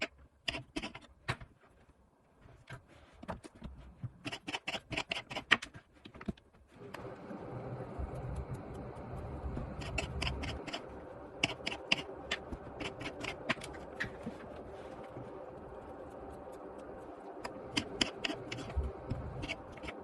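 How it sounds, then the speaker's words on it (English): Mushrooms being peeled and cut with a knife on a board, crisp close taps and scraping clicks in short irregular bursts, with a softer rustling bed of handling noise in between, no talking. "now we are going to peel and cut the mushrooms"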